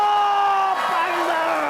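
Studio audience on a Pakistani comedy talk show claps and cheers, a loud sustained burst of applause with whoops and shouts that runs throughout.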